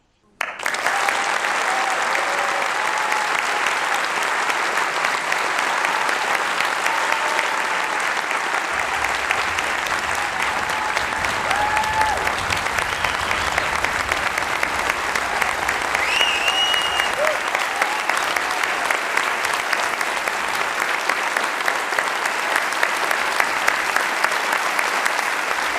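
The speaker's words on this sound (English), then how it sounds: "That applause says it all." An audience at a conference keynote claps in sustained, dense applause that fills the hall steadily from start to finish, with faint voices mixed in.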